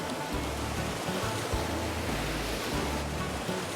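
River rapids on the Shiribetsu River rush as a canoe enters them, a dense, steady roar of churning water with low thumps from the hull.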